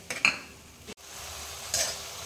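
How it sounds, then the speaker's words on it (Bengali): Spice paste is fried and stirred in a pan for a vegetarian papaya curry, with a close sizzle broken by a few scrapes and clinks of a spoon against the metal. "আমি এবার যে আরেকটা পেস্ট বানিয়ে রেখেছিলাম আমি সেটা এর ভেতরে দিয়ে দিলাম, দিয়ে আমি ভেজে নেব।"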